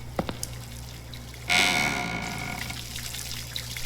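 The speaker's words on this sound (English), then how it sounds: "I hear water." Running water in the Spirit Hunter: Death Mark II video game, near a school toilet stall, starts abruptly after a few faint taps and hums, then flows as a steady splashing rush with a low background drone.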